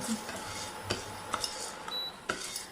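Sorghum grains being stirred in a hot pan over a gas flame, giving soft scraping and rustling with a few sharp utensil clicks against the pan at a steady, moderate level.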